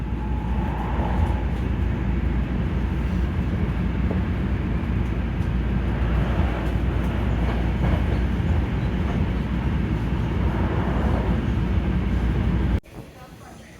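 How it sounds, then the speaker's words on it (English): Steady, loud rumble of a train in Osaka, Japan, heard from inside the carriage as a continuous drone that cuts off abruptly near the end, leaving quieter ambience. "Alright, I survived another train experience."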